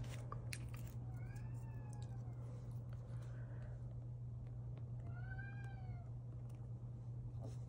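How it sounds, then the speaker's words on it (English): A house cat meows from nearby a few times, with drawn-out, rising-and-falling cries over a steady low hum in an indoor room. "My poor cat is devastated that he's not in here with me."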